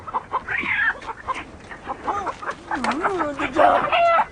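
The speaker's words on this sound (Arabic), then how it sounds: "معي دجاج بلدي. دجاج بلدي." Free-range local chickens clucking and squawking nearby, a busy run of irregular calls with sharp rising cries, mixed with people talking.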